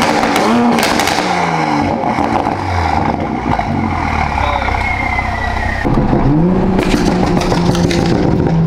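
A tuned Toyota Supra on its most aggressive burble map revs up and falls back close by, with loud rising and falling engine tones and crackling exhaust pops as the revs drop.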